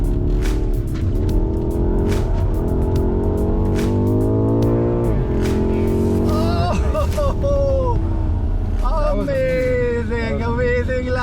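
A car is driven fast around a race track lap with the air conditioning running, its engine rising and shifting steadily under continuous overlapping speech and some higher whine near the end.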